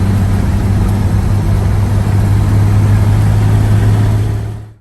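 A 1948 Chevy pickup truck engine idles loud and close with a steady low rumbling hum and even mechanical whir, cutting off abruptly at the end.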